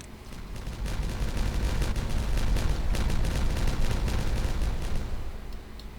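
Repeated explosive detonations rumble and crack in Timberborn, a dense series of booms and blasts building to a loud peak mid-clip and easing off toward the end, with no talk.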